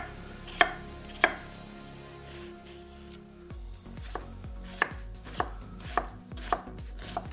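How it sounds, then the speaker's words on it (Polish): Knife dicing two medium onions into small cubes on a board while bacon renders nearby, giving a steady run of crisp, close chopping strikes at a brisk, even rhythm over a faint background sizzle. "pokroimy sobie dwie cebule, dwie średnie cebule"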